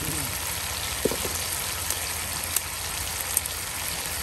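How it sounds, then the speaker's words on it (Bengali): Spices and garam masala sauté for khichuri with a soft, constant sizzle and a few faint pops and clinks. "সকল প্রকারের মশলা দিয়ে কত সুন্দর করে আপনার মশলা কষানো হচ্ছে।"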